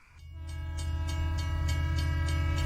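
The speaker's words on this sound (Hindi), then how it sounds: "एक ट्रेन आ रही है, ठीक है?" A train draws near with its horn blaring in a long, sustained, rising blast that swells louder over a deep rumble, with rhythmic pulsing in the tone. No voices are heard.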